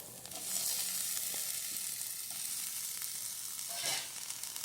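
Potatoes are added to a cauliflower masala stir-fry, and the pan gives off a steady, close hiss of sizzling with faint stirring scrapes and a brief louder flare near the end.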